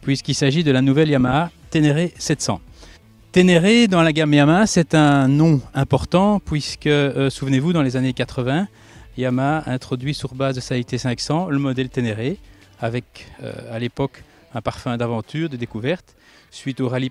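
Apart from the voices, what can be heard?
No everyday noise stands out behind the speech.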